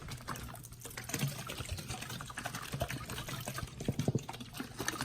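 Water poured from a container into a worm bin, a steady splashing trickle running throughout at close range with no talk over it.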